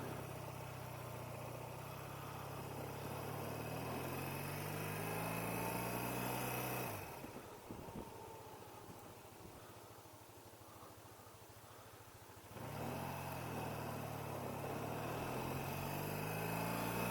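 A BMW R100RT motorcycle engine runs steadily after coming off the choke, a close, even hum that briefly drops to a rougher, quieter rumble midway before picking back up.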